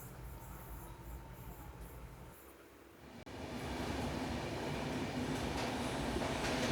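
Mangaluru–Mumbai superfast train, the 12134, running through the long Karwar tunnel in Karnataka: a steady rumbling roar of wheels and carriages that swells louder and more enclosed partway through and stays heavy to the end.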